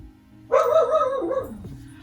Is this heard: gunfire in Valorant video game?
no